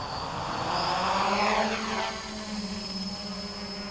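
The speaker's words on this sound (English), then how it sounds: "So now I start the engines by rocking the controls together, and then I can increase the throttle until it takes off." A DJI F550 hexacopter drone with six electric motors whirs steadily as its propellers spin up and lift off, a close, sustained buzzing drone with rising and shifting pitch and no talk.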